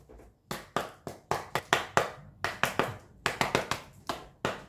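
Knuckles knocking on a deck of tarot cards, a quick series of about twenty sharp, close raps in uneven bursts, alone with no talk.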